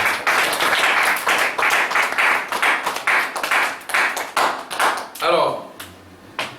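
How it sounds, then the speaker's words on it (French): A church congregation claps in rhythmic, fairly loud applause for several seconds before it breaks off, then a voice begins speaking. "Acclamation pour le Seigneur."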